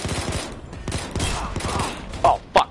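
Repeated sniper rifle shots from the Payday 2 heist game crack out against dense ongoing battle noise, with two sharp, distinct reports standing out near the end.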